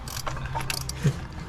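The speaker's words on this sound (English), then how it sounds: "I accidentally been tightening all the bolts" A ratchet tightens bolts with a quick run of close, fairly quiet mechanical clicks over a soft background hum.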